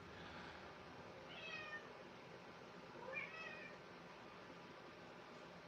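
A cat meows indoors twice, with two drawn-out cries separated by a pause, faint against a steady background hum.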